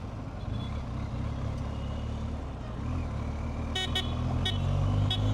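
Road traffic in Goa, India, a continuous low rumble of engines with several short car horn toots near the end, the vehicle noise swelling slightly as it draws closer, no speech.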